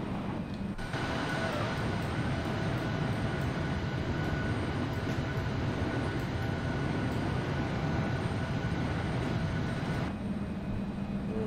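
Embraer E195 jet engines spooled to full takeoff power in the X-Plane flight simulator, a steady loud roar with a faint whine that holds evenly for about ten seconds and then drops sharply near the end.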